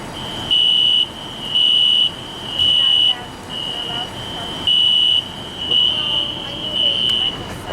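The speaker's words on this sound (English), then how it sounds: "You just gotta focus at the fire alarm?" A building fire alarm blares in repeated loud, steady electronic tones lasting about half a second to a second each, separated by short gaps, over a busy background where people talk.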